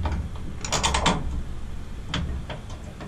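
Parts being screwed back into a Ford F-150 tailgate lock while installing a security lock, with quick ratcheting clicks in a burst near the start and a few more later, close by.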